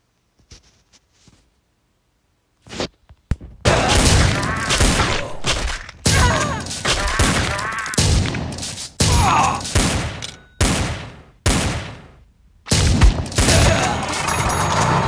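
Rapid bursts of gunfire from the zombie-survival video game Dead Ahead: Zombie Warfare, loud and dense volleys repeating in clusters after a brief quiet opening, with short gaps between salvos.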